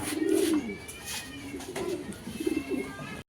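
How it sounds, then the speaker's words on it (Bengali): Adult pigeons coo close by in a few soft, throaty bursts that rise and fall over a few seconds. "এটা নিউ অ্যাডাল কবুতর"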